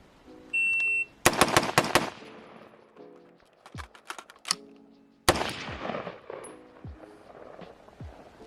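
Type 81 rifle fired on a shooting drill at an IDPA target, with a timer beep, a rapid string of five loud shots, a pause for a reload, then more sharp shots echoing outdoors.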